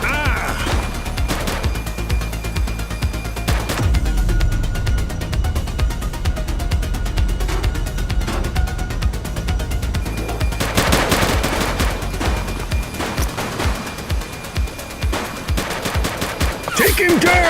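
Gunfire from a suspect during a police shootout in The Precinct, dense bursts of rapid shots and heavy volleys crowding together, loud and close, with a pause then sharp separate cracks near the end.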